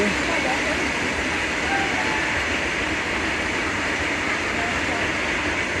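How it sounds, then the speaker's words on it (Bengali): A freight train running past on the rails outdoors: a loud, continuous broadband rumble and rattle of wagons filling the whole stretch at an even level. "মালগাড়ি চলেছে"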